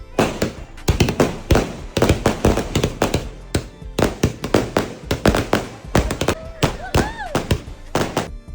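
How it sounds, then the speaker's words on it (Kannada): Diwali firecrackers bursting at night, a dense run of sharp cracks and booms in quick irregular succession, some near and loud, with whistling rockets rising toward the end. "ನೆಕ್ಸ್ಟ್ ಡೇ ನೈಟ್ ಪಟಾಕಿ ಎಲ್ಲ ಹೊಡೆದ್ವಿ."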